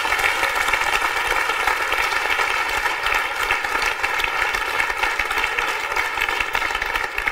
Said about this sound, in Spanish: Un aplauso para María del Mar y David